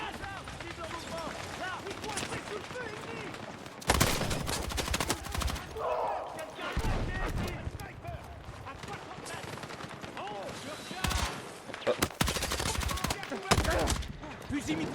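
Bursts of machine gun fire in the video game Battlefield 6, with rapid automatic volleys and loud gunshots erupting repeatedly over busy game noise and background sound.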